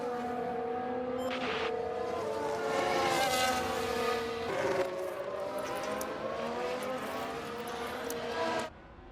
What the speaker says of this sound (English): As Vettel goes round the outside of the Williams, and that's a pretty simple pass for Sebastian Vettel as he moves up into 17th